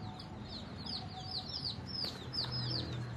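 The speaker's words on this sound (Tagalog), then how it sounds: "May mga sisiw dyan." Chicks cheep in a fast, steady stream of thin, high peeps that overlap one another, fairly close, over a faint background hiss.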